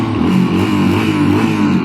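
A 1986 Yamaha XT 350 single-cylinder motorcycle runs loud and close, its exhaust giving a steady throbbing drone with a slight rise in revs and no talk over it.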